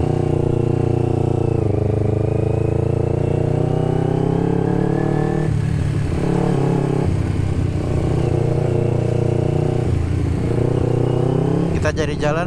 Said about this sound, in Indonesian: Mesin nembak-nembak guys.